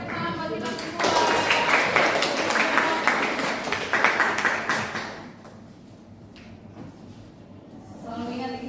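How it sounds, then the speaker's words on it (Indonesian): Applause in a classroom: a group of students clapping steadily for about four seconds, loud and close, then fading into quieter room noise with brief talk near the end. "Oke, tepuk tangan buat kita semua."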